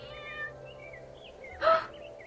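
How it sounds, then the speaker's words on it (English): A kitten meowing once, a short, clear mew over a faint background of soft music and hum. "Look, a kitten!"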